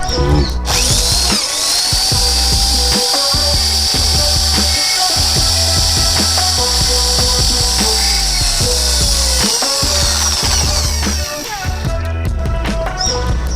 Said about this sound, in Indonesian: untuk pertama akan saya lakukan untuk pengeboran